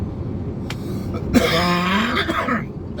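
A single sharp cough bursts out, followed by a short raspy throat-clearing sound, close and fairly loud against a quiet background.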